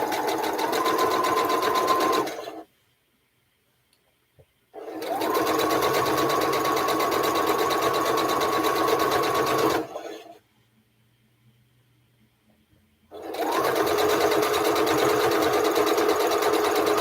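A sewing machine stitches quilt blocks in three long, steady runs of loud, even whirring, separated by short pauses of near silence.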